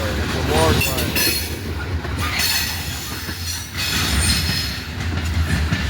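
A freight train of grain cars rolls past close by, with loud continuous rumbling, rattling wheels and occasional squeals throughout.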